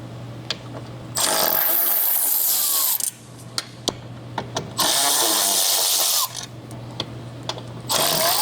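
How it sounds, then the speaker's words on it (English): Three T25 screws are loosened from a McLaren 720S engine bay air filter assembly with a power driver, loud whirring bursts alternating with a steady hum and small clicks. "You can simply unbolt them. There are 3 screws. They are T25s."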